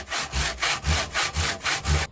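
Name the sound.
hand saw cutting wood for a bridle joint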